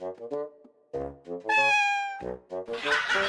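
A cat meows repeatedly at close range in a Javanese comedy sketch: several short mews are followed by one long, high, drawn-out meow, then more brief calls and a noisy burst.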